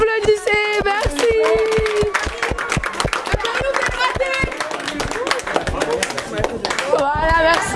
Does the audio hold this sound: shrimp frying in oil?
no